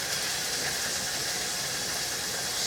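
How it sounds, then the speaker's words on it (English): Flour and food sizzle steadily in a pan, a constant bright hiss that stays even throughout with no voices. "It is just sizzling away"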